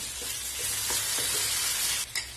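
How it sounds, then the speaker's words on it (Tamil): Steady sizzling of okra frying in a pan, with a few soft scraping stirs, close and continuous, no voices. "இப்போ இதை வந்துட்டு நல்லா வதக்கி விடலாம்"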